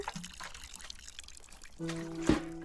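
Water poured onto a plant in the video game Botany Manor: a soft trickling pour rises near the end, with brief tonal game chimes mixed in.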